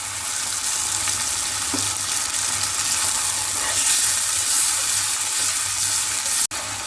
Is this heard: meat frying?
yes